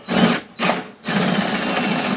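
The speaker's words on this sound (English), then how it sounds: "it's drilled the hole" A power drill bores a hole through a metal PC case during an ASRock J5040 silent PC build, running in two short bursts and then as a steady, close, continuous whirring grind.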